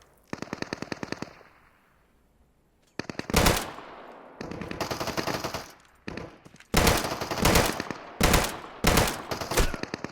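Automatic gunfire in the survival shooter Deadside, loud rapid bursts of shots separated by short pauses, with echoing tails and single sharper cracks, close and without talk.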